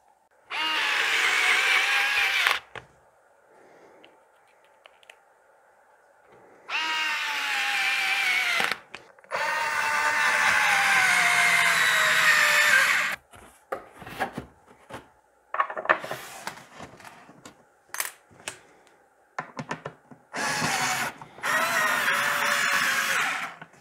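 A Bosch GO 2 cordless screwdriver drives a screw in several separate whirring bursts, high motor whine starting and stopping, separated by quiet gaps with small clicks and handling knocks.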